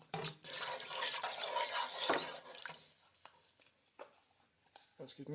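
Broth poured into a pot of softened onions for a creamy brie mushroom soup, a close splashing, gurgling pour that tapers into small drips and clinks.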